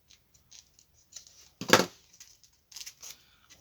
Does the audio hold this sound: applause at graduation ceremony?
no